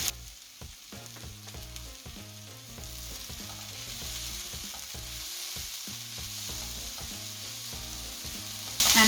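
Food frying in a pan for veg burnt garlic fried rice, a steady hiss and sizzle with repeated scraping stir strokes keeping a rhythmic pulse throughout, fairly close, with no talking.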